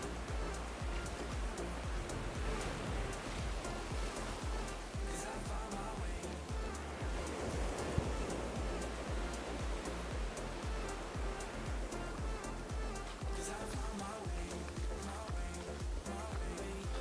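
Incoming tide washing in on the Bristol Channel shore at Minehead, a steady close broadband roar of surf with little rise and fall, fully masking any other sound.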